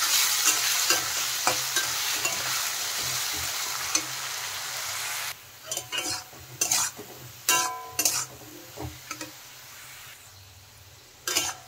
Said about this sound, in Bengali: নুন হলুদ দিয়ে কিন্তু আলু এখন ভালো করে ভেজে নেব আমি